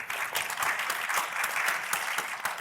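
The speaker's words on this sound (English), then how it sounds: "everyone can just give a round of applause for our great panel" A conference audience at a VidCon gaming panel applauds, giving dense, steady clapping throughout.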